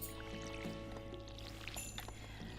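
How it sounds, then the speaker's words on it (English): Watering can pouring on crops in the Stardew Valley farming game, a short soft splashing pour over a faint game music background, quiet and close. "I'm gonna water my crops"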